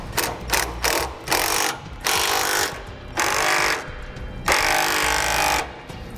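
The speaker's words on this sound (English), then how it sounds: "going to tighten my bracket that's going to my frame" Ratchet wrench tightening the bolts of a steering stabilizer mounting bracket on an RV frame, a fast clicking pawl in several loud bursts separated by short pauses, close up with no talk.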